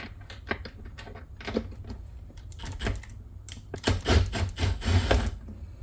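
Ratchet tool clicking as nuts come off the front seat bolts of a 2015 Mini Cooper Countryman, irregular bursts of sharp metallic ticks, close and growing busier toward the end, no talking.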